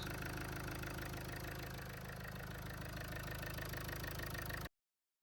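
A diesel car engine with refitted injectors idling close by, a steady knocking rumble that runs for several seconds and then cuts off abruptly.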